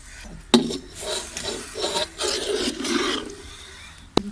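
Half a kilo of ghee is poured into a pan of melted sugar, giving a rough, hissing sizzle with a sharp knock at the start and another near the end, close and fairly loud.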